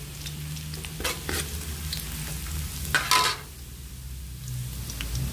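Garlic and onion fry in a pan with a soft, continuous sizzle. A few louder scraping stirs break through, and no one speaks.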